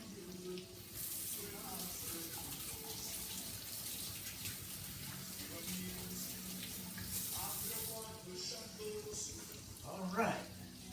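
Tap water runs steadily into a sink while hands are washed in a home kitchen, a continuous close hiss with splashing, and people talk over it near the end.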